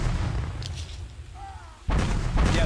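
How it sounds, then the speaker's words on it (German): A grenade blast in the trench warfare game Ratten Reich, a heavy booming burst that erupts after a quieter stretch of background battle rumble, loud and close, with no talk over it. "He threw a grenade too."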